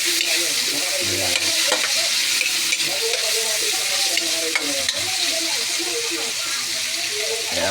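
Tilapia cooking in a pan, a loud constant sizzle and hiss with spatula scrapes, a voice murmuring faintly underneath throughout.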